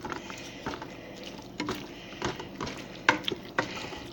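A spoon stirring a big pot of chili con carne, thick mixture sloshing with several scraping, knocking strokes against the pot over a few seconds, fairly close.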